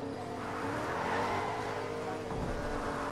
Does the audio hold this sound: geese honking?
no